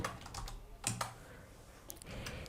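A few quick keystrokes on a computer keyboard click softly and close by, with a couple of sharper taps amid faint room noise.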